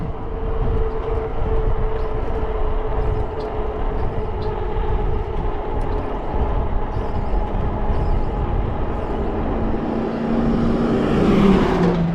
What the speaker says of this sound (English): truck is pulling out, coming our way.